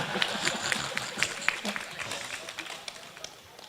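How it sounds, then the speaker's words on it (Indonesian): A gathering at an Islamic boarding school claps for a man named Aswar. The applause is scattered and moderately loud, and it thins and fades over a few seconds. "Tepuk tangan lah sama Aswar ini tadi."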